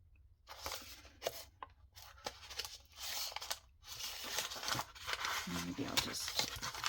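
Paper being ripped and crinkled off a board book journal, with several short tearing and crunching bursts separated by brief pauses, close and fairly quiet.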